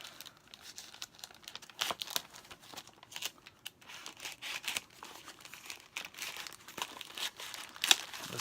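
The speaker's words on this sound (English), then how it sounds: "We'll open the other one from eBay." Packaging from an eBay parcel holding a fidget spinner is pulled open, with continuous close crinkling and tearing of wrap and sharp rustles over about eight seconds, no talking.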